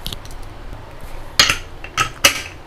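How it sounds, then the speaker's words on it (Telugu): A pressure cooker lid is put on, giving a few sharp metallic clanks and clinks close by, spaced apart over a quiet kitchen background. "ఇప్పుడు కుక్కర్ మూత పెట్టేసి"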